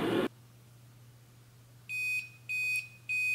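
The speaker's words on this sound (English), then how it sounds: "Nice beep sound." Three short electronic beeps from a variable-temperature gooseneck electric kettle sound in a steady rhythm against a quiet hum, clear and close, after a brief burst of noise at the start.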